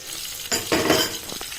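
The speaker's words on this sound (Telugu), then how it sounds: "ఇది ఎల్లిపాయలు అనేది బాగా ఫ్రై రావాలండి, ఏగుతూ ఉండాలి" Garlic and curry leaves fry in a pan for ajwain rice, with a close, steady sizzle and short bursts of stirring scrapes.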